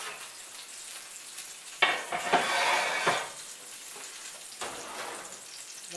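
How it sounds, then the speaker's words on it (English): Steady crackling sizzle of pork chops cooking in hot fat in an oven, with a few louder bursts and spits rising and settling over the continuous frying hiss. "They're sizzling up nicely."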